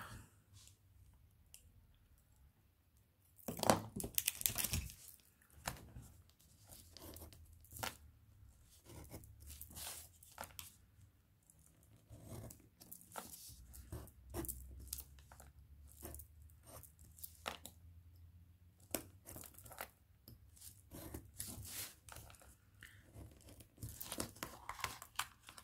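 Paper is cut inside a shape for a scrapbook photo album, a close run of short snips and crinkling rustles with an irregular rhythm and brief pauses.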